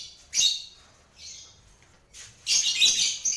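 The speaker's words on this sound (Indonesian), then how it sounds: "penghuninya adalah lovebird cobat warna biru gelap sama putih" Lovebirds, a dark blue cobalt and white pair kept in a breeding box, give sharp high chirps in two bursts, a short cluster near the start and a louder, busier run of tweets toward the end, with quieter calls between.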